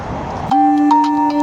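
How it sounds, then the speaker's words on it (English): A mobile phone ringtone cuts in abruptly after a moment of muffled background noise, sounding as a sustained, steady electronic tone with harmonics, close and fairly loud, with faint rhythmic pulses over it. "if you heard a ringtone, my mum was calling me about the train."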